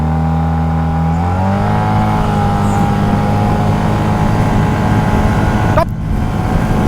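A 2022 Sym MaxSym TL 508 scooter accelerates hard, its engine note climbing steadily in pitch with a brief dip around a gear or shift change, then pulling on loudly and close throughout.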